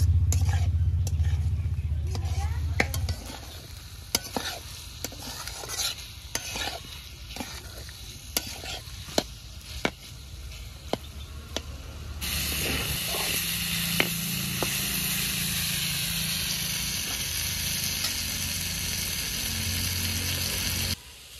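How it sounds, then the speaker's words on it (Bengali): Fried figs and potatoes sauté in spice paste in a pan. A spoon scrapes and knocks repeatedly against the pan over a steady frying hiss, which surges louder and brighter midway and carries on continuously. "ডুমুর আলু দিয়েও আরো 2 মিনিট কষে নেব ভালো করে।"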